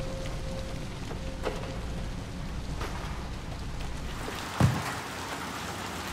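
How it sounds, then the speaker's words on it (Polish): Rain in the video game Little Nightmares 2 pours in a continuous soft hiss, with a few faint clicks and one brief thud partway through, and no voices. "Kurde, ale fajnie deszczowo."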